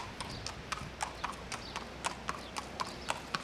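A horse's hooves clip-clop in a steady, even walking rhythm on a village road, crisp but fairly faint against a soft background hush.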